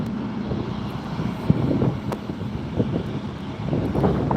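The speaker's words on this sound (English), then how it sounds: "next arrival coming in is going to be, it's a little Embraer, Alaska Horizon, flight 2264 coming in from San Jose." A small Alaska Horizon Embraer jet arrives at LAX, heard as a moderate, steady engine rumble with wind buffeting the microphone and a few light knocks.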